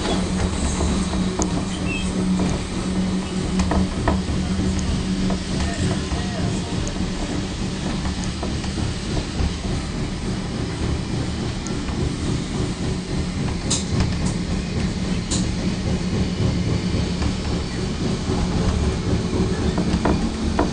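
Passenger carriage interior during a run behind steam locomotive 6029 between Goulburn and Junee, a continuous loud rumble of wheels and rails with faint rhythmic clatter, steady for the whole stretch.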